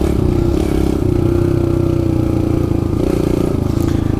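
A 2017 Kawasaki KLX 110 pit bike engine revs close by, a loud buzzing drone that surges and dips in pitch with faint mechanical clatter.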